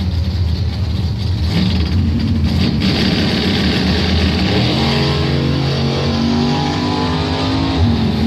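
Roaring engines of doorslammer drag cars, a 1978 Chevy Monza and an S10, loud and sustained as they rev and launch down the strip at a Top Doorslammer round of Bonfire Salute 2017.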